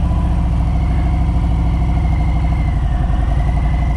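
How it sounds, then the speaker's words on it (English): A motorcycle engine works steadily at low revs during slow riding up a long driveway, with a constant low throbbing rumble that stays loud and even throughout and has no speech. "If you can hear the engine working, I'm not revving it really hard"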